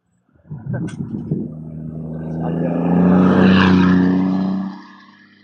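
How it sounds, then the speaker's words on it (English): A diesel pickup truck fitted with train horns sweeps past on a street, its engine swelling from a low rumble to a loud roar before fading quickly, with brief voice sounds at the start. "there's this guy, beautiful truck, and he's going to fly by me real quick"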